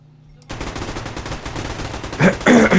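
After a brief quiet start, a steady rattle of gunfire in the game Survarium, including a Heckler & Koch gun, runs on, swelling into louder bursts toward the end.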